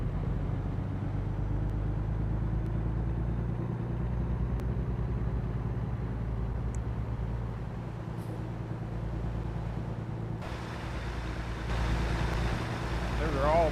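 A Kenworth truck engine drones steadily while driving in a game, a low continuous rumble throughout with a brief hiss near the end.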